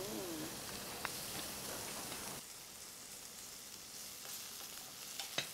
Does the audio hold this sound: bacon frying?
yes